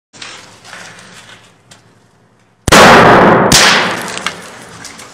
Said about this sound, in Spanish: hay un disparo que destroza prácticamente todo el sitio en el que está